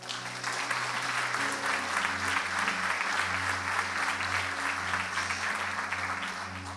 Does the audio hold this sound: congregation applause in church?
yes